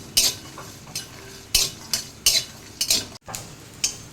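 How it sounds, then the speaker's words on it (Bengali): Black cumin, dried and fresh chillies and garlic stirred in a dry hot wok, with repeated scraping and clinking strokes of a utensil against the pan at an irregular rhythm, close and fairly loud. "শুকনো গরম কড়াইতে এবার কালো জিরে, দুটো শুকনো লঙ্কা আর রসুন আর কাঁচা লঙ্কা একসাথে একটু নেড়ে চেড়ে নিচ্ছি"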